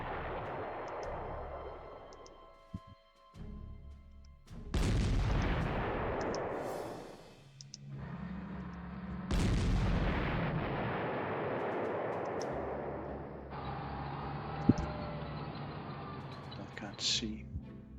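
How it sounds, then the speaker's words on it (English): Booming artillery fire from a WWII strategy video game sounds several heavy blasts over a steady game backdrop, with someone talking over it. "Careful with this artillery. Can get dangerous."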